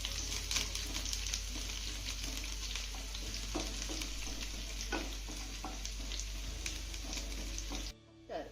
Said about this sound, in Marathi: लसूण ना आपल्याला हलक्या सोनेरी रंगावरती चांगला परतून घ्यायचा आहे.